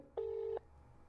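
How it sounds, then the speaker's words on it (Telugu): A phone rings on an outgoing call: a single clean electronic ringback tone lasts under half a second, then drops to near silence on a quiet line. "ఫోన్ రింగ్ అవుతోంది"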